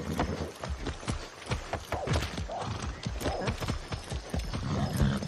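Horse hooves clip-clopping in the video game Far Cry 6, a steady run of close, fairly quiet hoof strikes with a whinny mixed in and no talk over them.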